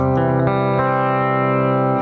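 Guitar through a Nembrini Jazz Chorus amp app with the cabinet switched off, a few quick notes then a held chord ringing steadily, loud, buzzy and raw-toned, with no talking.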